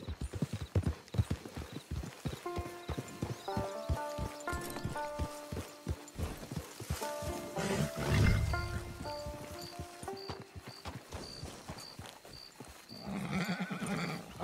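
A horse gallops in the video game Red Dead Redemption 2, rapid rhythmic hoofbeats pounding steadily under a melodic game music score, with a brief whoosh midway and no talk.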